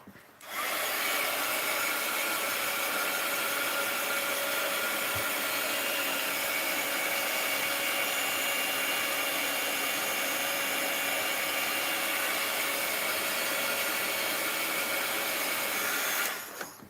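A heat tool blows steadily to dry a mixed-media art journal page, a loud continuous whirring hiss that switches on abruptly, holds for about fifteen seconds and then cuts off, with no talking.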